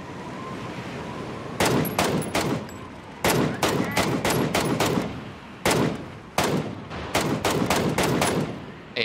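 Gunfire aimed at gliders in PUBG, several loud bursts of rapid automatic shots in quick clusters separated by short pauses, close and sharp, with no talking.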